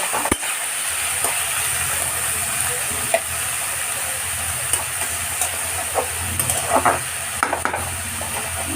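Bitter gourd and potatoes frying in a pan with salt and turmeric, a steady close sizzle and hiss running throughout, broken by occasional soft stirring clicks.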